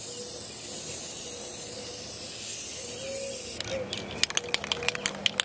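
A spray gun lays clear coat over a car's paint in a steady, close hissing spray, continuous for several seconds before breaking into short bursts and sharp clicks toward the end.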